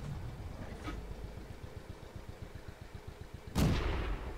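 A tank gun firing in World of Tanks, a low rumbling engine idle throughout, then a single loud, sharp cannon blast near the end; a fainter crack sounds early on.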